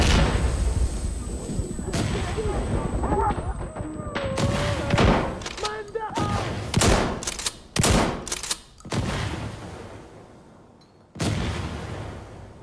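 A shotgun loaded with flechette rounds fires in a video game, a string of loud, sharp blasts at irregular intervals over steady game background noise.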